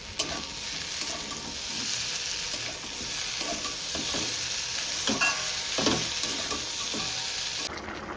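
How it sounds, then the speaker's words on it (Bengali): Boiled potatoes frying in a pan, a steady loud sizzle with repeated stirring scrapes throughout, no voices. "দিয়ে আলুটাকেও বেশ খানিকক্ষণ ভেজে নিতে হবে।"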